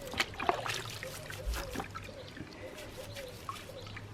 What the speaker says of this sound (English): let's just get a bit of this soapy water all over the place